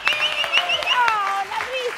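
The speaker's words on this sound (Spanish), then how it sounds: "Este aplauso espontáneo me mató." A TV studio audience gives a short burst of spontaneous applause for a guest, with quick claps mixed with whoops and a voice speaking over them.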